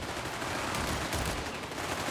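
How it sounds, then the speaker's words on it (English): Vickers machine gun fire in the strategy game Company of Heroes 3, faint rapid bursts blended into a dense battlefield din, short and continuous with no speech. "Monika's maybe going for like a bit of Vickers spam"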